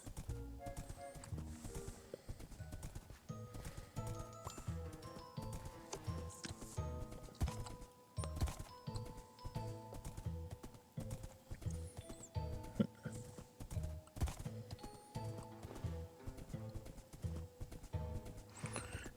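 Steady clip-clop of horse hooves in the game Wynncraft over a continuous musical background, with an occasional faint whinny, fairly quiet throughout.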